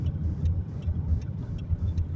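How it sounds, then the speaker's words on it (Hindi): City road traffic in Lahore: a steady rumbling flow of cars passing close by, with faint higher ticks and hisses layered over the continuous engine drone. "कैसे रवां दवा है ट्रैफिक पुरसकून"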